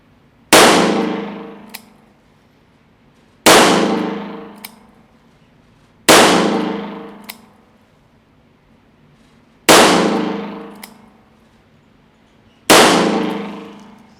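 A Taurus 856 Defender revolver fired single action at a range: five loud, sharp shots spaced about three seconds apart, each with a ringing, decaying tail, and no talking.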